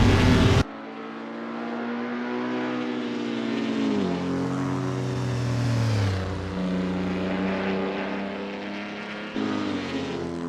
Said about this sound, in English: car is humming like a sweet Carolina tune